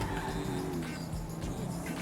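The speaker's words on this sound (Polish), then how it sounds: "Strasznie gówniane jest to auto, bo się strasznie ślizga" A car in the video game GTA 5 slides and skids across the road, with a steady engine drone and tire noise running continuously at a constant loudness.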